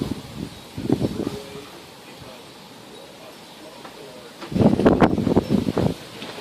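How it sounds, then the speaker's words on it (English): A strong wind gust in high winds at Menifee buffets the microphone in rough bursts, one near the start and a louder surge toward the end, with quieter rustling between. "There's another gust coming like that."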